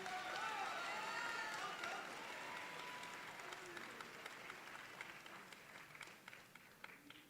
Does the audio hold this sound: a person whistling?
no